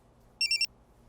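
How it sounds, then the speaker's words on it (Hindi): A phone rings with a short burst of bright electronic beeps, three quick pulses, against a quiet background. "अरे फोन किसका आ गया?"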